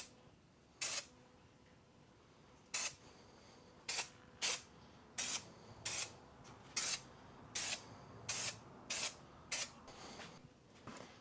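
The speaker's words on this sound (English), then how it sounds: "I sprayed the bottom of the seat, or the bottom of the foam as well" Aerosol spray can misting adhesive onto new foam for a motorcycle seat on a 1994 Honda XR650L, about a dozen short hissing bursts at irregular intervals, close and fairly loud against a quiet room.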